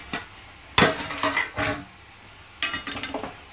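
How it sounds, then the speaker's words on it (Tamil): A metal lid comes off a cooking pot of carrot halwa on a stovetop, giving a sharp clank followed by a few scraping, clattering knocks of metal on metal, then another burst of light rattling a moment later. "மூடி திறந்து பார்க்கலாம்"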